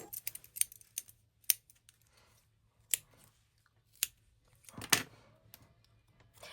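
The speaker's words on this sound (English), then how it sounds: "we're going to take some pop-up tape and we're just going to apply it to the edges there." Pop-up tape is pulled off and pressed onto the edges of coloured craft paper, giving sparse, sharp crinkles and taps at irregular intervals, with one louder rustle near the end and quiet pauses between.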